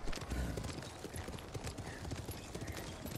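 Horse hooves clip-clop steadily in the video game Ghost of Tsushima, a continuous galloping rhythm heard up close over dense ambient game sound.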